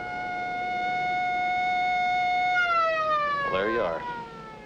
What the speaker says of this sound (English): that siren means I'll be called back